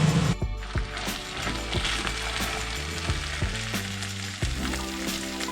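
Minced beef filling with diced carrots and Worcestershire sauce is stirred in a hot pan for a pie, with steady sizzling and a few clicks of the spoon against the pan, close by and with no voices.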